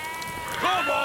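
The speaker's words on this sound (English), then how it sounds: "Will you move your sheep?" Sheep bleat on a country road, a wavering cry rising near the end over steady outdoor background, with a voice speaking.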